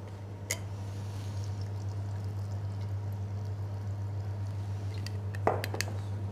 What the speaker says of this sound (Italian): quindi mettiamo una parte di acqua gasata